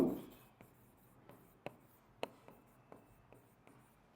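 Pen or chalk writing notes during a Bengali grammar lesson, heard as sparse, sharp ticks and short strokes, close and clear against a quiet background.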